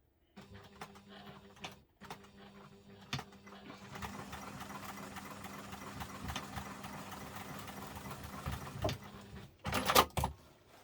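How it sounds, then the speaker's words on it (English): A sewing machine runs a stitch line across a messenger bag, a steady mechanical whirr with a few short starts and stops before a louder burst near the end, no talking. "I'm going to do one more stitch line across here"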